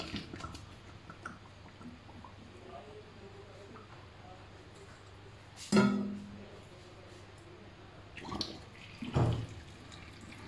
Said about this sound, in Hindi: मेरे पास छलनी है, मैं उसमें डाल रही हूँ इसकी।